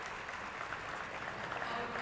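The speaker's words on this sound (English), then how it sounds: "Let's give them a massive round of applause" A crowd at a national lead dance championship finals applauds the event hosts, a brief, dense burst of clapping with faint voices mixed in.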